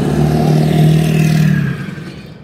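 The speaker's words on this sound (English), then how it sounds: "noisy truck going past" A loud, noisy truck rumbles past close by on a city street, its engine roar and clatter holding steady before fading away at the end.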